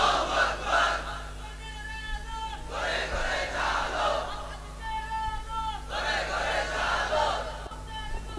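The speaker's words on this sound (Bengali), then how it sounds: "এজন্য তাকবীর দেন" A large crowd at a Bengali Islamic religious gathering chants takbir in loud, rhythmic unison, three swelling waves of massed voices separated by brief lulls, with a steady low hum beneath.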